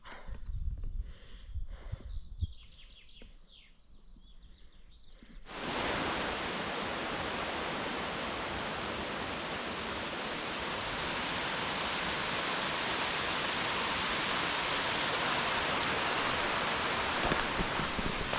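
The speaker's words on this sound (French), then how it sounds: "Cascade du Nidec." Nidec waterfall in the mountains, a steady loud roar of falling water that starts abruptly and holds constant, after a quieter stretch of outdoor ambience and footsteps.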